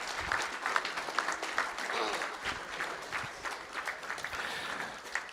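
An audience at a school district board of trustees meeting claps for track and field state qualifiers from Boerne and Champion High School, giving a moderate round of applause in a room, with a little background chatter.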